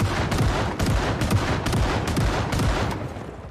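Rapid gunfire rattles in the video game Kingsmouth near a cluster of buildings, dense overlapping bursts of shots sustained throughout with no pauses or voices.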